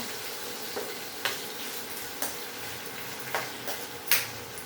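Onion and curry leaves fry in a pan for a basale dal, giving a steady close sizzle broken by a few sharp spoon-on-pan stirring clacks at irregular intervals.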